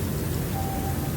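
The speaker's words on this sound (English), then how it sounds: "The lieutenant keeps his hand in the rain." Steady rain falls in Disco Elysium, a soft, even hiss of drops that runs unbroken and fairly faint, with a low rumble underneath and no voices.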